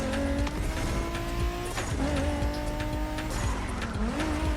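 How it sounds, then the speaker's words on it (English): A car engine boosted by nitrous in the racing video game The Crew Motorfest revs loud and high in a steady, sustained drone, with tire squeal and skidding mixed in and no voices over it. "And the way the car sounds too with the nitrous."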